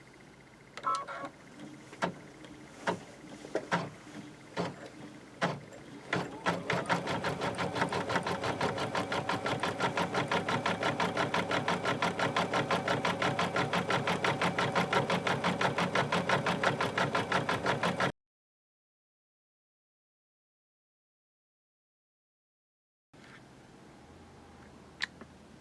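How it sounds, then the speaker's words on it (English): Embroidery sewing machine stitching out the final color of a freestanding 3D flower, starting with a few slow stitches, then running a fast, steady, loud rhythmic chatter before stopping abruptly into silence. "we stick it back in the machine. All right. Sew out the last color."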